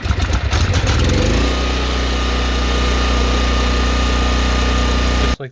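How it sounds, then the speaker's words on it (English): Portable generator engine just started on a cold day, at first sputtering and uneven, then settling into a loud, steady idle drone with a strong hum that runs alone until it cuts off abruptly. "Just like that, everyone, we have a running generator."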